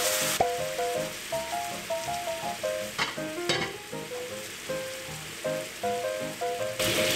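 Brown sugar syrup poured over glutinous rice cakes in a hot pan, bubbling and sizzling steadily with rhythmic clicks and taps from the pan, close and clear with no voices.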